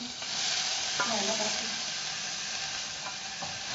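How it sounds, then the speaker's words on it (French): Onions sizzling in hot oil in a home kitchen pan, a steady close hiss of frying with a few faint stirring clinks, no voices. "tu vas ajouter les oignons"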